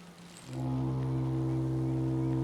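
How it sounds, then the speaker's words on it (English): A deep, steady horn honks in the video game Season: A Letter to the Future, a sustained low foghorn-like tone that swells in and holds, loud and forlorn, with no talk over it. "Honk! Can you record that?"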